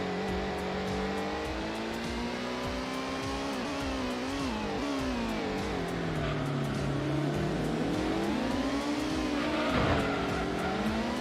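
A Honda NSX race car engine in Gran Turismo, a sustained loud whine rising and falling through gear shifts and revs, with brief tire squeal, continuous throughout.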